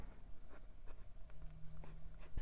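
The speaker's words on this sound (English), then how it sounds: "It's decently wet for a small nib, and the nib has a good deal of feedback to it." The small nib of a Jinhao 100 Mini Centennial fountain pen writes on paper. Soft scratchy strokes come in quick, irregular bursts, faint and close, with no talking.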